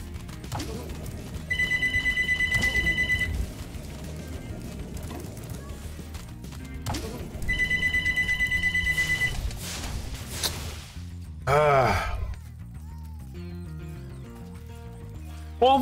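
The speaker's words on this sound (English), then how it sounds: "Doridius, that's when the phone rings" A telephone rings inside the Spyro 2: Ripto's Rage video game, two bursts of repeated bell trills a few seconds apart over busy game music and sound effects, with no talking.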